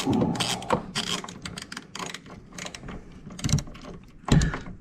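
A hand ratchet clicks in quick bursts while bolts are tightened on a BMW E36 engine, close metallic ratcheting strokes with short pauses and occasional clanks of tools.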